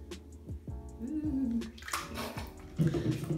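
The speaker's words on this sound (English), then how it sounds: "I take alkaline water and I add it" Alkaline water poured into a bowl of powdered face mask to mix a paste, a close, steady trickle with gurgling, glugging bursts and a brief splashier surge near the end, with no talking.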